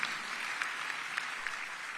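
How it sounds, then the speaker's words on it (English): Sustained audience applause in a hall during a county address, even and moderately loud with a few sharper claps standing out, continuing for the whole stretch without talk. "Give Michael a round of applause in the council for College Grove."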